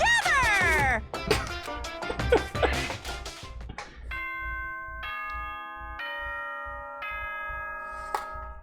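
The announcement chime from the video game Danganronpa: Trigger Happy Havoc plays as a slow run of clear, ringing tones, each held and overlapping, after a short burst of voice.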